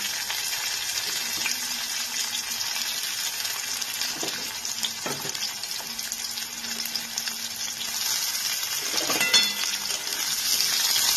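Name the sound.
onions frying in a pan for egg Maggi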